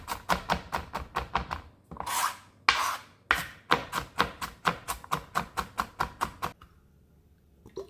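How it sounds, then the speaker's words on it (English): A knife chopping onions and garlic on a board: rapid, even, close taps in quick runs, broken by a couple of longer scraping strokes, then a final burst of chops before quiet. "Finely chop the onions and garlic."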